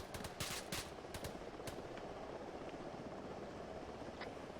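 AK rifle fire in the military game Arma 3 crackles in quick bursts, sharp cracks early, then thinner and more distant shots over a constant rumbling background.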